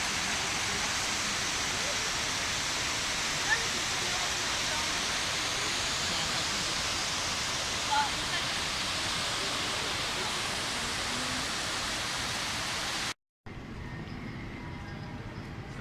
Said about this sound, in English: And here the noise, that's the water.